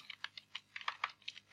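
Keys tapped on a computer keyboard while code is typed, about a dozen quick, light clicks in an uneven rhythm, close and fairly quiet, with no talking.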